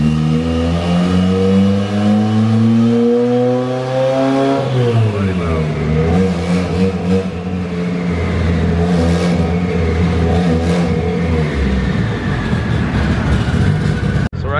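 A tuned 1,000 hp Mitsubishi Evo 8 engine revs up and settles on a dyno, rising and falling in pitch repeatedly, loud and close with a steady mechanical drone.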